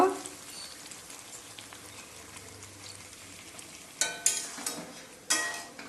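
Pieces of meat drop into a pan of oil one after another, each landing with a sharp crackle and spatter over a quiet, low sizzle.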